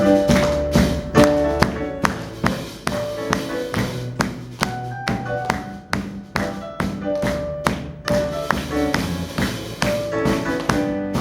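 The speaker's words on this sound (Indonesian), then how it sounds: "Mari kita sama-sama tepuk tangan" Worshippers at an Indonesian GBI Sunday service in Batam clap their hands in steady rhythm, sharp regular beats over a sustained musical backing.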